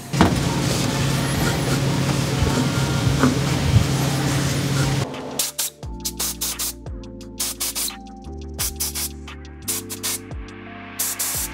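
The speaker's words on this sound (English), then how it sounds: "blow compressed air through each one of these new holes that uh, don't go all the way through" Compressed air is blown through newly machined blind holes in an RB26 engine girdle, making a loud, continuous close-up hiss for about five seconds. Afterward come sharp clicks, short bursts and a faint steady hum.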